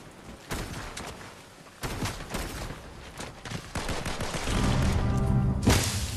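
Gunfire in a shooter video game: bursts of rapid shots and volleys at close range, with clustered cracks around the one-second and two-second marks and a louder volley near the end, over steady game ambience.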